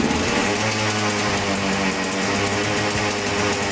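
A trail motorcycle's engine runs close by with a steady, buzzy, crisp idle, continuous and loud without pauses.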